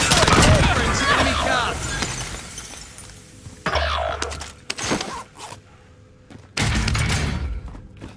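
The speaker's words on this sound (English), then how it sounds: "Enemy precision airstrikes." Precision airstrike blasts in Call of Duty Warzone land as three heavy, booming explosions spaced a few seconds apart, each with a deep rumble and a crashing, shattering tail, while players talk in between.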